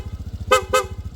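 A Honda Beat FI scooter horn gives two short, close toots over a steady low engine putter.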